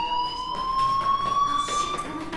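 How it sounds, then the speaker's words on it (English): A fire alarm in the video game Life Is Strange: a continuous high electronic tone slowly rising in pitch, loud and sustained over faint background noise, with no voices. "do you hear that fire alarm?"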